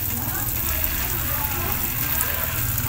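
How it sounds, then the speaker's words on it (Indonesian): Water-diluted fertilizer solution poured from about 5 liters onto porous plant growing media, a steady close rushing, splashing wash that runs continuously with a low rumble underneath. "Ketika kita siram, dia langsung turun ke bawah, tidak menggendang, semuanya merata."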